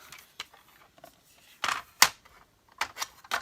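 Paper being cut for a craft stack project: soft, quiet clicks and scrapes, then a few sharp, crisp slicing swishes spaced out over a few seconds, with no talking.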